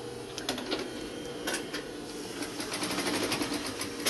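A sewing machine stitches the two seams of a lightweight lining and facing for a flat cap, running as a steady, close whirring hum with a few short stops and restarts, with no voices.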